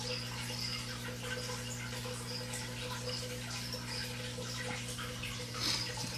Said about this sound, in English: I got plenty of running water